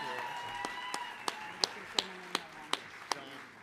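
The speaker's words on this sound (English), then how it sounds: "let's have a big round of applause for Chandra." A small indoor gathering at an Oxford House claps in a steady, slightly sparse rhythm, with about eight distinct hand claps ringing out over a low murmur of room noise.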